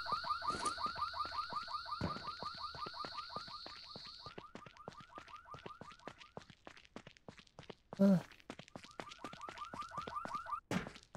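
An alarm going off in the No One Survived survival video game: a rapid repeating electronic beeping pattern that pulses steadily, broken by a loud thunk midway and a sharp knock near the end, with no talk.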